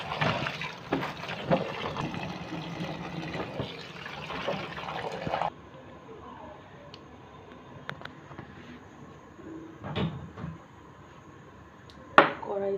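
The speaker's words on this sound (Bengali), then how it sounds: "এখন ভালো করে পানি দিয়ে ধুয়ে নেব।" Boiled frozen banana flower rinsed under water in a kitchen: a steady, close rush of running and splashing water for about five seconds, then quieter handling with scattered small knocks and drips.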